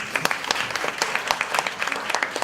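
An audience at a youth debate final gives a steady round of applause with many hands clapping at once, dense and fairly close.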